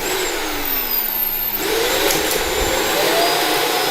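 A Neabot Nomo N1 Plus robot vacuum docks and self-empties its dustbin, giving a steady loud whooshing motor roar with strong airflow that shifts pitch slightly partway through and holds without pause.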